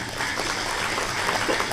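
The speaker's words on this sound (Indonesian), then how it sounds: "Jangan tepuk tangan aja" Audience applause in a hall at a regional official's public speech in Central Java, a broad, steady wash of clapping held at an even level for a couple of seconds.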